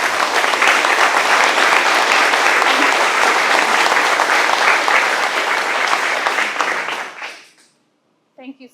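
Dense, loud applause from a crowd at a community center ribbon-cutting ceremony, sustained for several seconds before fading out, then a voice speaks briefly after it ends.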